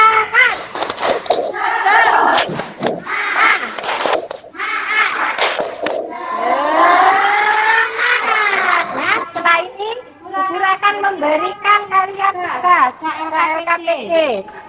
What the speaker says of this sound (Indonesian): kita tepuk semangat dulu. 1, 2, 3, tepuk semangat.